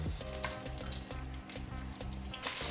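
Garam masala whole spices, including cardamom, splutter and crackle in hot oil for a Bangalore military hotel style donne biryani, a short loud burst of sizzling over a low background hum.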